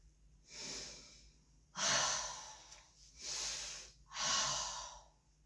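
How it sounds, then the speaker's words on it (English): During a chest exam in a head-to-toe physical assessment, a patient takes four deep, airy breaths in a slow, even rhythm, close and fairly quiet, with no speech. "just take a deep breath and inhale"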